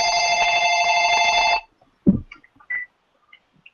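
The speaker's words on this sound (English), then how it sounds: "That was just the phone." A telephone bell rings loudly and steadily for about a second and a half, then cuts off, leaving a quiet room with a few faint clicks and brief soft noises afterward.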